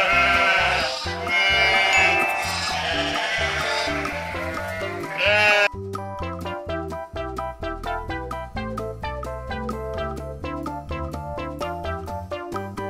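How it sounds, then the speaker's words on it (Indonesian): A goat bleats in a long wavering cry, then a rhythmic series of shorter bleats follows, loud and close with no talking. "Ini adalah kambing."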